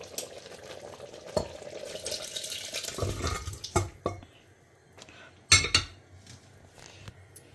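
Cooked lentils are added to boiling curry: liquid splashes and bubbles in a pot, with a few sharp clinks of a utensil against metal, close by and fairly quiet.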